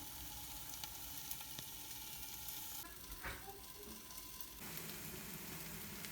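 Onions and tomato sizzle softly in a covered pan, a faint, steady hiss of frying that runs throughout with slight shifts in texture and no voices.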